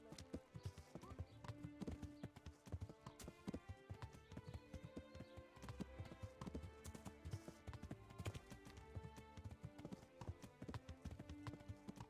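A horse gallops in the medieval video game Kingdom Come: Deliverance, its hooves beating a steady, quick clip-clop rhythm at low volume with game ambience behind.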